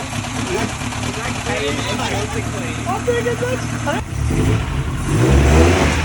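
Old Ford Cortina barn-find car engine running and revving, a rough mid-pitched rumble that swells louder toward the end, with people talking over it throughout.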